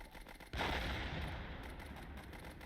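Sustained machine gun fire from machine gunners in the World War I video game Warfare 1917, bursting in loud and dense after a brief quieter lead-in, then continuing as a steady, rapid rattle.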